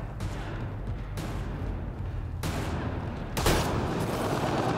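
Sustained gunfire in the online multiplayer shooter Mass Effect Andromeda, a dense, continuous rattle of rapid shots and bursts that swells louder near the end, with no talking over it.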